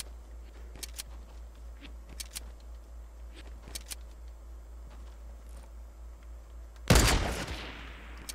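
Gunfire in the video game Fortnite: one loud, sharp shot near the end that rings out and decays, preceded by a few faint, scattered clicks and taps over a steady low hum, with no talking.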